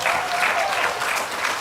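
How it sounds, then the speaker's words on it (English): Crowd applauding the president at the commissioning of the Karasabai airstrip, a steady dense clapping that holds loud and even from start to finish, with a little crowd noise mixed in. "let's give a round of applause for our president."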